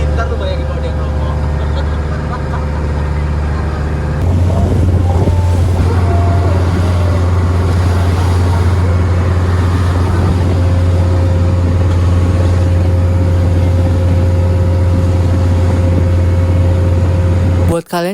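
Traditional wooden passenger boat engine on the crossing to the Thousand Islands off Jakarta: a loud, steady low droning hum that shifts and deepens partway through, then runs continuously with faint background chatter.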